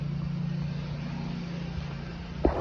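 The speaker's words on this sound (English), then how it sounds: "Sorry for the lawnmower in the background." Lawnmower engine droning steadily in the background outdoors, a low continuous hum at moderate distance with a brief knock near the end.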